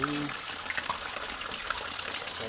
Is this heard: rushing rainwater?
yes